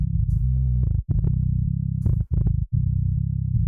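A heavily distorted synth tone plays in sustained, gritty bursts, cut by a few brief gaps, loud and dry with no voices.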